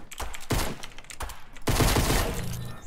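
A flashlight pistol fires in Fortnite: sharp, close bursts of shots in quick clusters, with short gaps between the volleys and a longer, denser burst toward the end.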